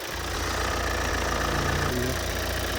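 Warm Skoda Kodiaq 2.0 diesel engine idling close up, a steady even clatter and hum with a slight knock, loud and continuous.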